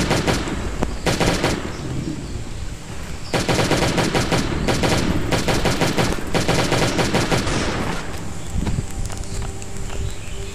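Automatic gunfire in the survival video game Last Day on Earth: Survival, loud rapid bursts of shots with short gaps between them and softer game footstep sounds in the background.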